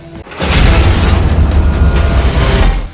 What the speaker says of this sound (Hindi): खेड़ी गांव की पटाखा फैक्ट्री में भीषण विस्फोट हो गया